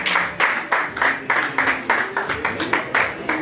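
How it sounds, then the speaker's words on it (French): An audience at an official launch event in Kinshasa claps for Armand Papadier, a rhythmic, fairly close run of about a dozen evenly spaced unison claps. "Je vous souhaite vos applaudissements."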